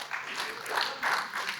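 A church congregation claps during a sermon, a short burst of scattered applause from a room of people, moderately loud and rising briefly, lasting under two seconds.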